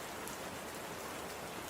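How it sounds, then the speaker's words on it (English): Steady rain falls outdoors, a dense, even hiss of drops on surfaces that holds at a constant level throughout, with no voices or other sounds. "Rain. It's raining out."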